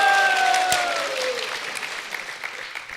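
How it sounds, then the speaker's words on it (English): Audience applause for a translator during a kirtan and talk at a temple in Kathmandu, a loud burst of crowd clapping fading out over a few seconds, with a brief whistle-like tone early on. "Give him a big round of applause"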